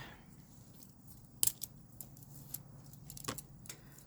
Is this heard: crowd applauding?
no